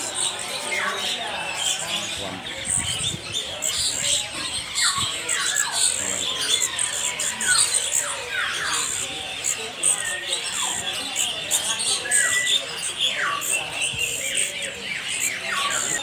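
Many caged birds chirp and tweet over one another at the Pramuka bird market in Jakarta, a dense, continuous chorus of sharp calls and whistles with market bustle and voices underneath.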